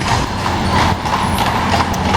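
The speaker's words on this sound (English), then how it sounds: "must be home time for the horses. They're all heading out." Horses walking home along dry ground, their hooves clip-clopping steadily amid loud outdoor background noise and wind.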